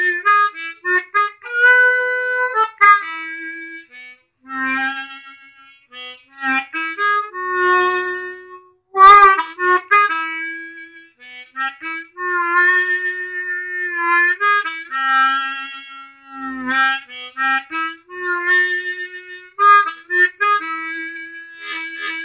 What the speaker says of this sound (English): I play alternatively tuned harmonicas mainly to do melodies.